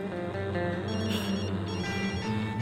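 A telephone rings steadily and fairly loudly throughout, over a dense background of dramatic score in a dubbed Turkish drama scene.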